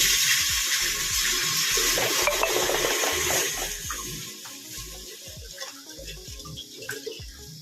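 Water poured into a pressure cooker sitting on a lit gas stove while dal is prepared, a steady broadband splashing rush that is loud for the first few seconds, then thins into softer trickling and light metallic knocks.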